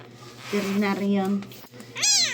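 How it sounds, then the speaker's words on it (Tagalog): A small abandoned kitten meows loudly and plaintively up close, giving two drawn-out cries, with a faint steady hum underneath. "Ang kuting kawawa."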